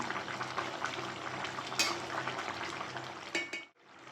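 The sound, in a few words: fish-head curry with Malabar spinach simmering dry on high gas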